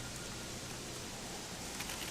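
Steady rain falls at night in the video game Gothic 3, a soft continuous wash of even hiss with no distinct drops or gusts, moderately quiet and unbroken throughout.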